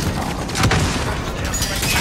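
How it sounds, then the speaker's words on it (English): An airstrike explosion in the Warzone battle royale game, a loud booming blast with crackling debris layered into dense, noisy combat audio, with no clear speech. "I called an airstrike."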